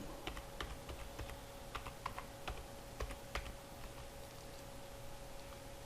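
Typing code into Microsoft Excel on a computer keyboard: scattered, fairly quiet key clicks in small irregular bursts over a low steady hum, no talking.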